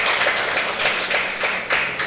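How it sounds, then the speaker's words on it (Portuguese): A church congregation applauds in steady, dense clapping that pulses slightly in waves, fairly loud and close, with no speech over it. "Você pode aplaudir ao Senhor, meu irmão, em nome de Jesus."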